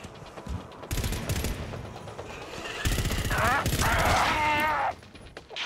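Rapid bursts of gunfire from a GTFO firefight rattle through the mix, building toward the end and sitting under players talking over each other.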